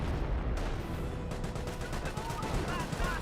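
Gunfire and artillery from a 25-pounder gun crackle in the real-time strategy game Company of Heroes, dense overlapping shots under a continuous battle din with a voice talking over it.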